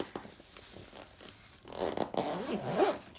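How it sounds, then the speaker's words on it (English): A zipper on a utility bin bag is pulled closed in a few short rasping strokes, close and clear, speeding up toward the end. "I can squash it down and I'm still able to zip it up"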